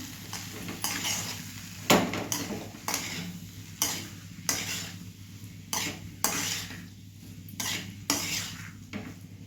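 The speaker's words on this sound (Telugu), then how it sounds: "ఇలా వేసేసుకొని మొత్తం కలిపేసుకుందాం" Potato curry being mixed with chili powder and coriander powder, a spoon scraping and clinking against the pan in a steady, repeating rhythm of roughly a dozen strokes, close and clear with no talking.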